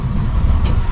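Manual-transmission car pulling away in first gear, a steady, loud low engine rumble heard from inside the cabin with some road and wind noise and no talking.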